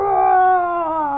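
A voice imitates a lion roaring very loudly in a story reading, producing one close, sustained, howl-like cry that holds steady before trailing off.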